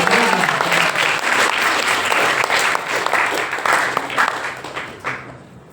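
A crowd at a bhakti retreat in Amsterdam gives a round of applause, dense and steady clapping that thins out and fades away near the end.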